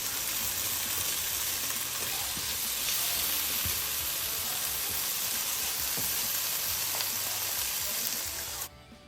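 Zucchini stir fry sizzling in a Presto electric skillet, a loud, steady, close frying hiss that runs nearly unbroken before dropping away sharply at the very end, with no talking.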